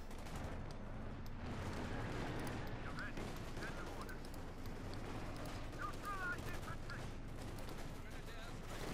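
Heavy sustained battlefield gunfire from a Company of Heroes 2 match, a dense continuous rattle of rifles and machine guns with distant blasts, running steadily under a commentator's voice throughout.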